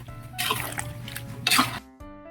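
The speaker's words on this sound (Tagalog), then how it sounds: "lagyan natin ng tubig" Water is poured into a cooking pot of pork kaldereta with liver: two short splashing bursts of liquid, then a brief pause and a faint hum.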